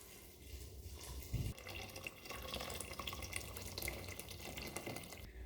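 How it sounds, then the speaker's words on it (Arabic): Hot boiled water pours steadily into a pot for homemade lentil soup, a continuous splashing trickle lasting several seconds, fairly quiet and close, with no talking. "وهسه ماي حار مغلي."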